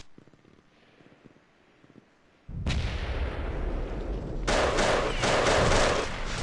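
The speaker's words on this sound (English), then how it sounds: "They're exchanging some fire up on top between yellow and east." Gunfire exchanged between players in a competitive shooter: quiet footsteps and small noises, then a loud sustained burst of shooting that swells into heavier, denser fire.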